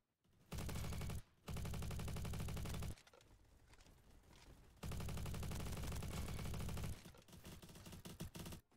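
Video game gunfire from an AUG rifle: long, loud sustained bursts of rapid automatic shots separated by short pauses, with quieter stretches of background game sound in between.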